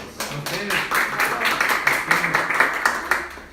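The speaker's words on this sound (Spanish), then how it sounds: "Un aplauso." Audience applause for participants at a publishing event, steady rapid clapping from a modest crowd with voices murmuring underneath.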